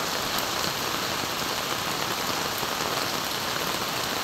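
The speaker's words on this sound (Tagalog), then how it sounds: "Oh, look. It's raining." Heavy typhoon thunderstorm rain in Dasmariñas, pouring steadily and densely on surfaces as a loud, unbroken hiss with no voices.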